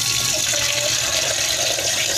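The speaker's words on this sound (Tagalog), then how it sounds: "Malagay ko lang ito ng tubig." Water runs steadily from a kitchen tap into a container being filled for coffee, a continuous close hiss and splash with no talking.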